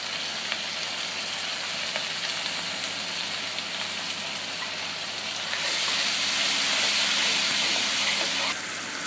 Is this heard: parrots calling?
no